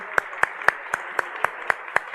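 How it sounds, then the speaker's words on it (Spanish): Slow, evenly spaced claps ring out at a cybersecurity panel for judicial organizations, about four sharp hand claps per second, distinct and fairly close against a quiet room. "un aplauso"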